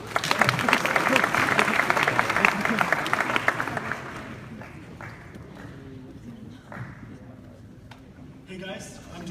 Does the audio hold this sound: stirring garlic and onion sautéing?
no